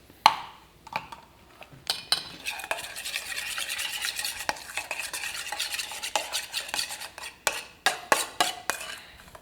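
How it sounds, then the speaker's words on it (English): Spoon scraping and stirring plant-based meat into a lasagna dish, with irregular clinks and knocks against the pan, some sharp and close, over a soft sizzling background. "I'm just mixing in the plant-based stuff in there"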